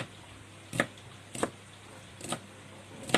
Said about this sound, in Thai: ยายหั่นถั่วนะคะทุกท่าน